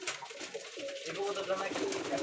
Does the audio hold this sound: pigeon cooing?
yes